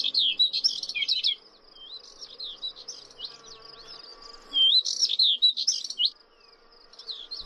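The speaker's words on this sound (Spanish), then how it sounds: "Los cantos de la curruca carrasqueña y de la cogujada montesina lo inundan todo." Subalpine warbler and Thekla lark sing outdoors, rapid scratchy high-pitched phrases in bursts with pauses between, fairly close, over faint insect buzzing.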